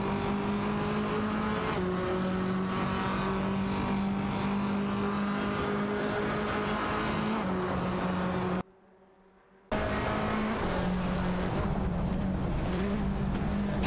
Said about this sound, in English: Captain Potato in the Lada Vesta is in a tight tussle with Lacroixon 1980 in the Honda Civic FA for the 15th position.